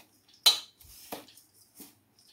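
A dill (shepu) mixture is stirred in a bowl, with a few close, sharp clinks of a spoon against the dish between short pauses. It is brief and quiet, with no voices.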